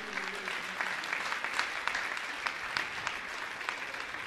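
An audience at a religious gathering in India claps together in steady, dense applause that continues evenly throughout, heard from within the crowd.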